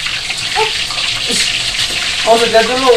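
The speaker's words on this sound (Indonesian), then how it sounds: "Ini cipratan minyak panas." Hissing, crackling spatter of hot oil from fish frying, steady and close, with brief talk and an exclamation over it near the end.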